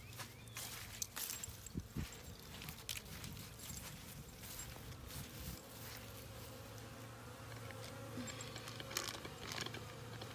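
Honeybees buzzing around the entrance of an active hive on a February winter day, the entrance reducer removed; a steady, close low drone of wings runs throughout with a few soft thumps and steps.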